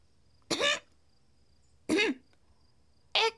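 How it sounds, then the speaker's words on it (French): A cartoon character clears its throat three times in short, separate bursts, each a brief raspy vocal rasp with quiet pauses between, fairly close and clear. "ça vous dérangerait de vous éclaircir la gorge?"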